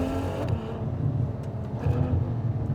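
A Ferrari F12's front-mid-mounted 6.3-liter V12 drones steadily at a low, rumbling pitch, close and continuous with no voices.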